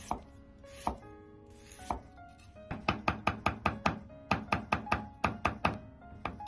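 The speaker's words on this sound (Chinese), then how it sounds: "少许的生姜先切成姜片" A knife slices fresh ginger on a cutting board, giving a few spaced chops and then a quick, even run of crisp, close knocks against the board.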